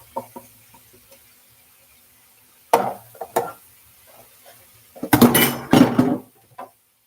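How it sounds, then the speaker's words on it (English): Broccoli and cauliflower stirred in a cooking pot at home, sparse scraping and knocking of a utensil against metal in short bursts with quiet gaps, close and clear, no talk. "Stir around, get mixing in."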